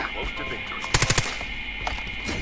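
A quick machine-gun burst of four or five sharp shots in Call of Duty Mobile, crisp and fairly close over a steady game-sound hum, followed by a fainter lone shot.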